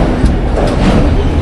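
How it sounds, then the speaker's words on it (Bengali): A train pulling into a crowded third-class railway platform, a loud, close rumble of wheels and carriages filling the moment without a break. "এই আমাদের ট্রেন ঢুকলো"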